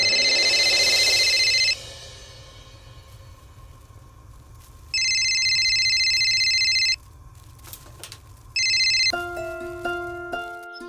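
An electronic phone ringtone plays in bursts, two-second tones with pauses between, then a different melodic chime pattern near the end; no talking.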